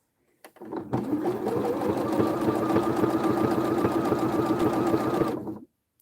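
A Janome computerized sewing machine runs steadily while stitching a dense satin stitch, a close, continuous mechanical whir with a fast rhythmic needle beat lasting several seconds before stopping.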